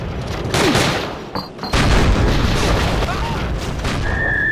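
A grenade goes off in the Call of Duty: Roads to Victory video game, a loud boom landing within dense, continuous gunfire and battle noise.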